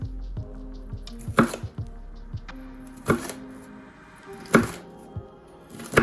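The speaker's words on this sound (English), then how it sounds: "Give those a chop." A knife chops jalapeno on a cutting board in a few sharp, close knocks spaced a second or so apart, with faint handling noise between strikes and no voices.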